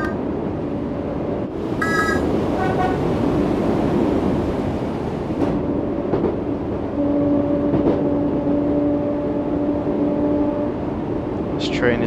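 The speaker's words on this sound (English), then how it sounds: "Train is very loud." A Class 484 train on the Island Line toward Shanklin in Train Sim World 3 rumbles steadily as it runs, loud and continuous, with a brief horn-like tone near the start and someone talking over it.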